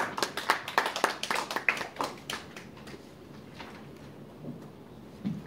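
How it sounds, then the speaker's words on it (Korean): An audience at a 2018 research results briefing welcomes a speaker with a burst of dense hand clapping that thins out and fades to a few scattered claps within seconds. "박수로 맞아주시기 바랍니다."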